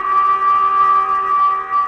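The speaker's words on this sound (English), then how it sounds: "we should hear the alarm go off here in just a second." An alarm from infrared monitoring software sounds continuously, a loud, steady electronic tone with stacked harmonics and a slight wavering pulse, heard alone with no talking.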